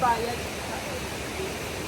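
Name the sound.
river flowing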